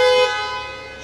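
An Ineos Grenadier's standard car horn gives a single close, loud, steady tone: a strong initial blast that eases slightly and holds for about a second.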